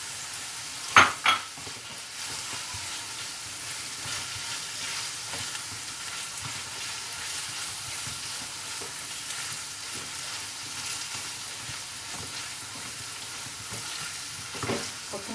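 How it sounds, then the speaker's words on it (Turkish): Içli köfte filling with chopped parsley is stirred in a hot, oily pan, giving a steady, soft sizzle throughout. Two sharp utensil clinks come near the start and a light scrape comes near the end, with no voices. "Şimdi maydanozlarımızı da ekleyelim. Güzelce karıştıralım."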